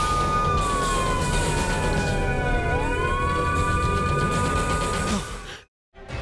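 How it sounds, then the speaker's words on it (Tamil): A police siren wails in a steady rising and falling tone, loud and fairly close, over a dense background rumble before cutting out abruptly near the end. "என்னடா போலீஸ் சைரன் கேக்குது?"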